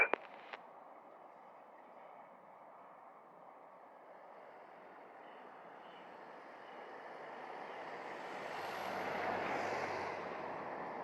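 A JetBlue airliner takes off from runway 07 at Montego Bay, Jamaica. Its engine roar starts distant and steady, then swells louder toward the end, after a few sharp clicks at the start.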